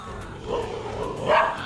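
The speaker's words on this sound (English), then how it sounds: "Oh, there are a lot of dogs here." A few dog barks ring out at moderate distance against a low background hum, spaced irregularly across a short stretch, near houses in Kerala.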